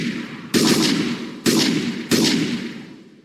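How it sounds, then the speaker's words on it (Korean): Three bursts of gunfire crack out in a row, each loud and sharp with a short decaying tail, coming in quick but uneven succession in the dark. No voices are heard. "연이어지는 총성이 어둠을 찢어대기 시작했다."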